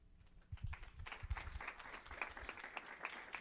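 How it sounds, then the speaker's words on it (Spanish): Audience applause at a nursing conference session on pediatric critical care, a moderate patter of claps that swells after a quiet start and holds fairly even, somewhat distant in the room. "Le damos un aplauso."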